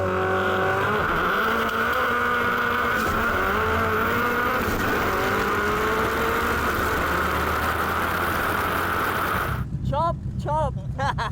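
Mitsubishi Lancer Evolution drag cars accelerate hard down the strip, their engines droning loud and steady with rising harmonic sweeps, and a brief burst of voices and chirpy sounds cutting in near the end.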